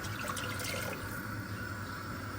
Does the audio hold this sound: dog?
no